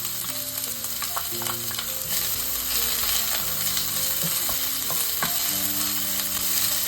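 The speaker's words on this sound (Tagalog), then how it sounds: "Then, put oil. At igisa na natin ang ating onion." One large onion sautés in oil in a hot pan, giving a steady, close sizzle throughout with scraping stir strokes and clinks of a utensil against the pan over a low background hum.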